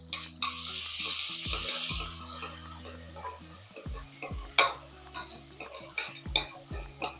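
Mutton curry masala with tomato sautés in a pan, soft sizzling underneath repeated metal spoon clanks and scrapes against the pan, with a low humming tone running through.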